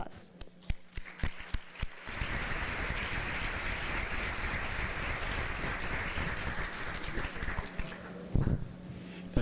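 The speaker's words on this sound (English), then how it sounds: "With an applause." A few scattered claps grow into a full round of audience applause at a conference panel, steady and moderately loud, then thin out into a few last claps.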